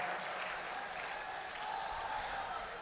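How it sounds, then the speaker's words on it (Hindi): Loud, sustained applause from an audience at a Hindu religious gathering, a dense steady wash of clapping hands that continues unbroken from start to finish. "एक बार पुनः जोरदार ताली बजाइए मेरे भाई के लिए।"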